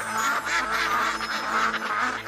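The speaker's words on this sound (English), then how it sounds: "Ducks can swim, ducks can fly, and ducks can walk on land." Repeated duck quacks sound in a steady, dense run with no gaps, loud and close throughout.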